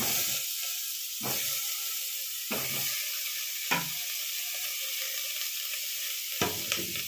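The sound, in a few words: frying and stirring onions in a pan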